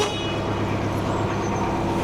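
A canal narrowboat horn honks in a steady, sustained blast inside a tunnel on the Llangollen Canal, loud and close with no talk over it.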